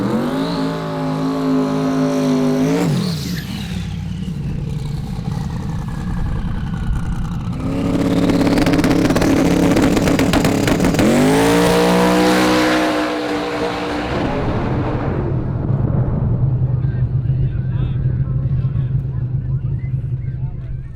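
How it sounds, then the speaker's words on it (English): Drag racing cars at Sick Week roar down the racetrack with loud engine revs and passes, rising and falling over about twenty seconds, a couple of sweeping passes standing out against steady track noise. "A couple hundred cars going down the racetrack and warm it up,"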